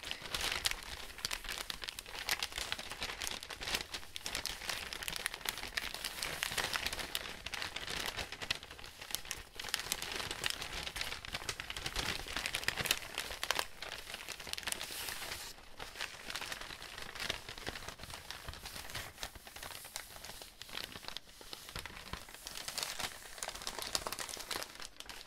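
Continuous crinkling and rustling of magazine paper being handled up close, a dense crackly texture that goes on steadily without pause.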